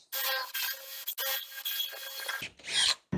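Drill bit boring into wood while building a chair, a close steady grinding whir with brief pauses and a short final burst.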